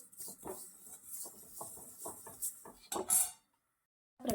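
Sesame seeds and grated coconut dry roasting in a pan, with a utensil scraping and clinking against the metal in quick, irregular strokes, close by, then a brief silence before one last scrape.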